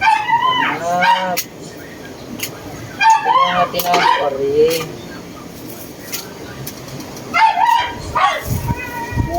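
Several bursts of sharp, yelping dog barks come in clusters, with people talking in between and around them.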